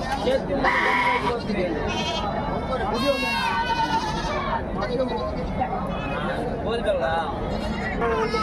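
Male goats bleat repeatedly at the busy Gudur livestock market, loud and close, with crowd chatter and voices running underneath throughout.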